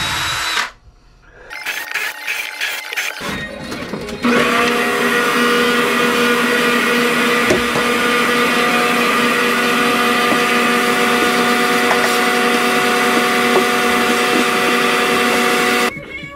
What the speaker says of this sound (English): I marked the holes where I ultimately need to pre-drill some pilot holes